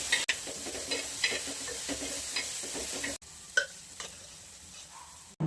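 Green chilli thecha fries in oil with a soft, continuous sizzle and faint, irregular stirring scrapes, heard close but quiet and without speech, with a brief dropout partway through.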